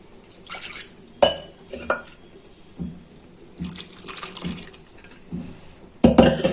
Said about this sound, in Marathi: थोडंसं पाणी घालते मी इथं.